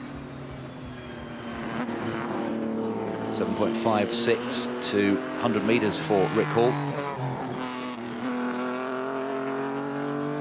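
A front-engined historic Grand Prix race car passes by at a timed shootout, its engine note rising and falling with shifting pitch under a commentator's steady talk.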